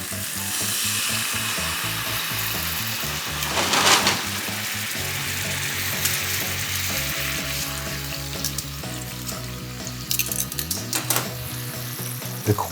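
Seared roast beef sizzles loudly and steadily in a pan, and a splash of sake briefly flares the hiss before the frying settles back, with a steady tonal hum underneath throughout.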